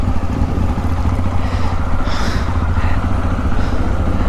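A motorcycle engine runs steadily nearby while being ridden aboard a ferry boat from Ratnagiri to Mumbai, a continuous loud low drone with slight rises in pitch.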